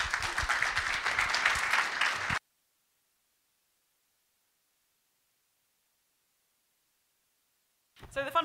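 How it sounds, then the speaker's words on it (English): Applause from a conference audience for a speaker, a dense burst of clapping lasting a couple of seconds, then a long silence before a voice briefly returns. "let's give her a round of applause"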